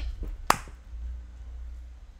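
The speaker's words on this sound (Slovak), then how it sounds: "Ja som pri tom tleskol." A single sharp hand clap sounds close and sudden, then fades into a low, steady background hum.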